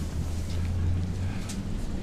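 Strong wind buffets the microphone at an outdoor lawn bowls green during a state singles championship, a steady low rumbling roar filling the short stretch with no clear speech.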